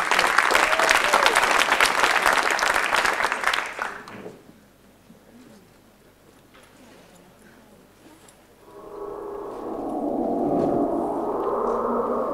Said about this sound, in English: Applaus voor Pieter Jan.